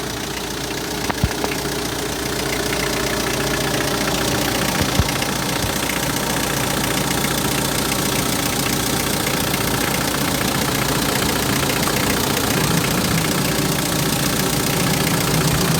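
A 2008 Hyundai Porter TCI double-cab diesel with manual transmission idles in its engine bay, a steady, even rumble with a faint clatter that holds at one level throughout without talk.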